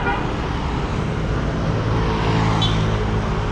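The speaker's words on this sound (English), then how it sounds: "That's what the traffic looks like." Busy street traffic in Da Nang, Vietnam, a steady close wash of car and scooter engines with a brief horn toot, continuous and loud.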